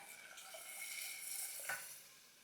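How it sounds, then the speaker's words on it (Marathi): Amla pulp sautés in a hot tempering, giving a soft, steady sizzle with a brief scrape of stirring partway through. "आवळ्याचा पल्प या फोडणीत मस्त दोन तीन मिनटं परतला आहे"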